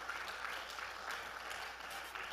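Applause for a teacher at a Sunday school gathering, a steady wash of clapping from a group that holds even and fairly faint for a couple of seconds.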